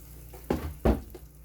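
Oil poured into a hot pan for frying Spam and eggs hisses in two short, loud sizzling bursts, then settles into a faint crackle.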